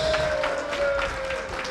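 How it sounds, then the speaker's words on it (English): Applause from the crowd at a fundraising dinner night, a steady wash of clapping, moderately loud, with a sustained tone running beneath it. "So let's give ourselves a bigger round of applause."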